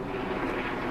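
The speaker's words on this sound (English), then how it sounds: "That was a helicopter." A steady low rumble of a helicopter passing overhead near an Air Force base, droning and continuous, moderately loud.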